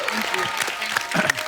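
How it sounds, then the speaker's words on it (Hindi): Studio audience on a comedy talk show applauds in a busy burst, mixed with voices and cheers throughout, fairly loud and close. "एक बार प्रियंका चोपड़ा और रोहित के लिए जोरदार तालियां हो जाए"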